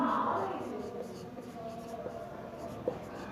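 A hand writes an equation on a surface, with a faint scratching and tapping that rises and falls and a small sharp tick near the end. A quiet background hum sits under the writing.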